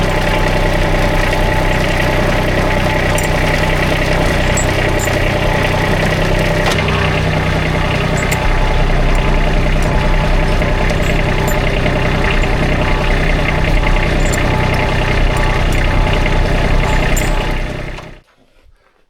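A vehicle engine idles and runs steadily through a short ride near a sugaring arch, a loud continuous droning rumble that cuts off abruptly near the end, with no talk.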